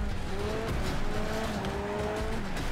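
Car tires squeal and skid under handbrake in Next Car Game, a destruction derby racer: a steady engine roar with wavering screeches of rubber across the whole stretch, fairly loud and close.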